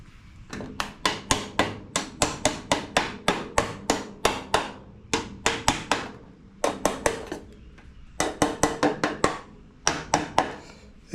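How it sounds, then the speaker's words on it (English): Sharp metallic taps from a small hammer on a gutter piece during assembly, struck in quick bursts of evenly spaced blows with brief pauses between runs, close and crisp. "grab my little hammer and tappy tappy"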